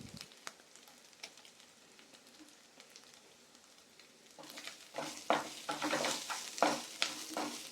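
Oil frying in a pan with turmeric before okra goes in: a quiet low sizzle that swells into louder crackling and repeated stirring scrapes partway through, close and with no talking.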